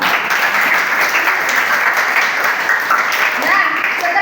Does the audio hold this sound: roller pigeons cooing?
no